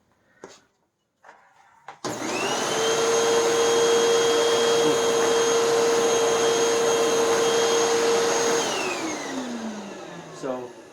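A Sanitaire EXTEND SC3683D upright vacuum cleaner runs over a bare concrete floor strewn with sand and rice, a loud steady motor whine with a rushing airflow roar that winds down at the end after a few clicks.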